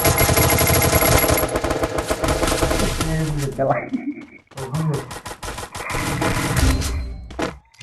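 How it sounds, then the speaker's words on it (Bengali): Loud machine gun fire in a PUBG or Free Fire video game, rapid continuous bursts that break off briefly and resume, with voices and other game sounds mixed in. "কোথাও গুলি চালাচ্ছে"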